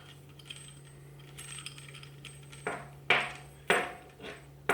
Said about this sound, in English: I might actually take this nut here off, makes it a little bit easier, and just simply thread that right on.